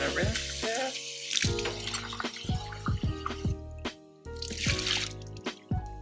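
Wild-caught, deveined shell-on shrimp rinsed under a running kitchen tap, with splashing water, drips and clinks of the bowl or sink in uneven bursts, close and moderately loud, and a voice speaking briefly over it.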